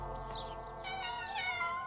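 Kittens in a children's cartoon meow in a run of high, wavering cries, a couple of drawn-out mews close together, clear and fairly quiet with no speech.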